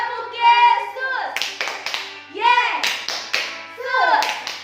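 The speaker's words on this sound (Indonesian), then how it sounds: "Tepuk Yesus." At a children's Sunday school worship service, rhythmic bursts of hand clapping in short patterns alternate with voices chanting together, repeating several times.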